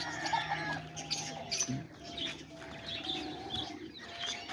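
Pigeons coo softly in a backyard coop alongside chickens, low repeated calls mixed with faint chirps and general bird chatter at moderate distance.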